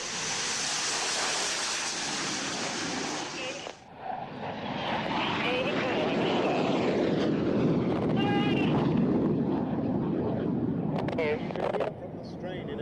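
Display team jet aircraft roar around an airfield, a loud sustained engine rush that dips and swells as they pull round the far side, with commentary talking over it.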